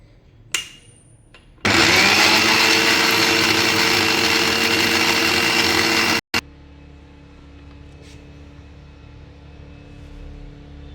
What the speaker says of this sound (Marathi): आता हे मिक्सरला मस्त बारीक करून घेते.